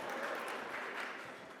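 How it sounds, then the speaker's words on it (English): Audience applause at an anniversary gala, a short burst of steady, evenly dense clapping from a mid-distance crowd with no single claps standing out. "USC people, you can applaud now."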